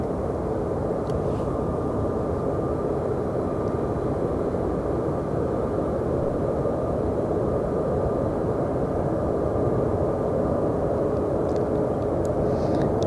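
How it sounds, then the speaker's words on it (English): A Sun Country Airlines jet arriving at Phoenix Sky Harbor Airport, heard as a steady, even engine roar and broadband rush that holds for the whole stretch, moderately loud and fairly distant, with no voices. "Actually, Sun Country Airlines 605 is coming on the north side."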